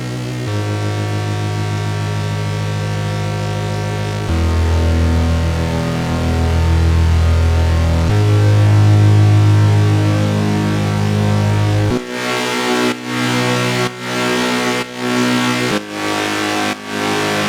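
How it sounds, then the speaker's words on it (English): Deep, heavy electronic bass lines from a track play loud and sustained in shifting sections, then switch to a rhythmic, pumping pattern with regular dips toward the end, with no voices. "So that's how our basses sound like."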